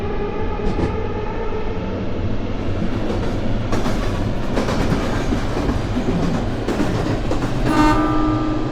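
JR East train on the Chuo Rapid Line in a train simulator game: steady rolling rail noise with rhythmic clickety-clack, a brief horn-like tone near the end, loud and continuous with no talk.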